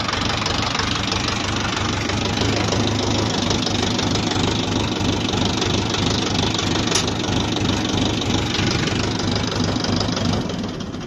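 A Foton Lovol 354 tractor runs with its compressor engaged, its diesel engine idling in a steady, loud, knocking chug that continues throughout, dipping slightly at the very end.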